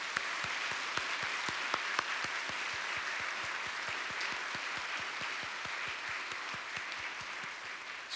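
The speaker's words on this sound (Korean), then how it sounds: "우리 하나님께 박수 한번 할까요?" Congregation clapping in unison at a New Year's midnight church service, steady rhythmic beats about four per second, moderately distant and soft, with a faint murmur underneath.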